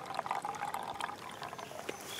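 Water pushed through a camping water filter, trickling and dribbling in a thin, uneven stream into a container at close range, without talk.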